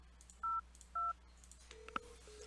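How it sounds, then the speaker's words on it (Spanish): A SIP extension phone dials with two short, clean keypad tones, then a brief burst of further tones over a low steady hum, close and clear with no voices. "Voy a marcar el teléfono 202"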